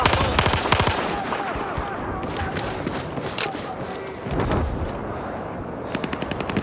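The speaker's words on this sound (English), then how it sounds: "There's an enemy machine gunner!" Enemy machine gun fire in a military squad video game, rapid bursts rattling at the start and again at the end, with steady battle noise and a voice talking in between.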